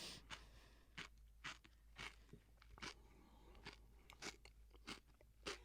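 Raw eggshells are crunched and chewed by a circus sideshow performer, producing a close, quiet series of sharp brittle crunches at an irregular chewing rhythm, with no talking.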